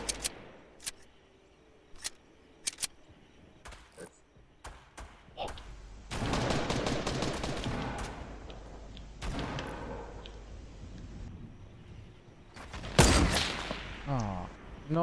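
Gunfire in Fortnite: scattered single sharp shots early on, then denser bursts of firing and impacts, with a loud blast near the end; game sounds with a voice heard briefly.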